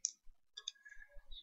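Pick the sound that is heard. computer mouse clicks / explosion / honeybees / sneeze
computer mouse clicks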